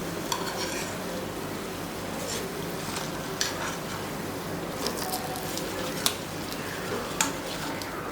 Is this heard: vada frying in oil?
yes